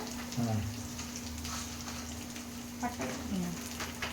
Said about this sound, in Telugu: కొంచెం పట్ట వేసి వేయించాలి దీంట్లో